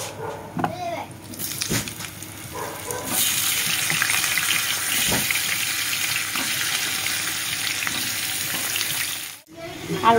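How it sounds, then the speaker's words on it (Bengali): Potatoes and cumin dropped into hot oil break into a loud, steady sizzle after a few clinks and rattles at the start, ending with a brief dropout and a clatter. "তেলটা গরমে এসছে এর মধ্যে এবার আমি জিরে দিয়ে দেবো এর মধ্যে আমি আলুগুলো দিয়ে দেবো"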